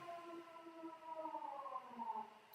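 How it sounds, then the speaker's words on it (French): A siren sounds in Denmark, a faint distant wailing tone that slowly rises and falls in pitch, alone with no voices. "alors la sirène qui se lance"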